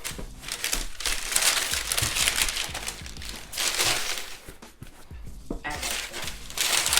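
Crinkling tissue paper rustles as a pair of Air Jordan Retro 1 Mid "Banned" sneakers is lifted from the shoebox, with steady close handling noise and a voice talking over it.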